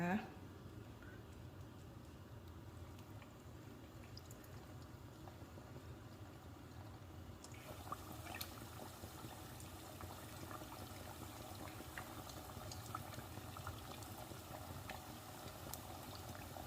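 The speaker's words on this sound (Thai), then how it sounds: "ทีนี้น้ำมันเริ่มร้อนแล้วค่ะแม่อ้อมจะนำลงไปเลยนะคะ" Taro wrapped in tofu skin goes into hot oil for deep-frying as a vegetarian dish, giving a steady bubbling sizzle that brightens and thickens partway through, with someone talking over it.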